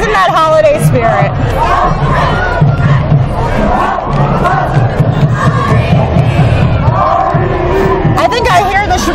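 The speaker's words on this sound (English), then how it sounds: "I think I hear the Sheboygan South High Cheer loud and clear." A high school cheer team shouts cheers at an outdoor holiday parade, a loud, continuous mass of young voices yelling in unison amid crowd noise, close by and sustained throughout.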